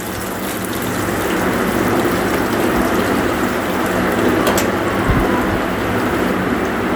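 Onion, rice, bay leaf, cardamom and pepper frying in hot oil in a frying pan make a loud, steady sizzle with a brief stirring scrape partway through, close and without talk.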